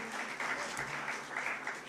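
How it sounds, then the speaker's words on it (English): Audience applause at a National Youth Day gathering, a faint, steady patter of many hands heard from a distance. "I request a good round of applause to that small young girl of just 15 years who stood"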